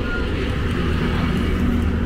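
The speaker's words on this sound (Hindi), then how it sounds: "बड़ी स्पीड से गाड़ियाँ आ रही हैं रात के समय" Cars speed past on a national highway at night, making a continuous, loud, close roar of traffic and tyre noise that fills the whole stretch.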